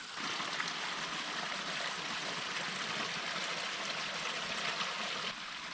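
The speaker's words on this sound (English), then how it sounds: "That's a 2-foot waterfall." A small waterfall about two feet high pours steadily, making a continuous close rushing and splashing wash of water with no voices.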